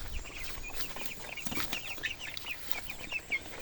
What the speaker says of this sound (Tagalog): titingnan natin yung nasa loob na sisiw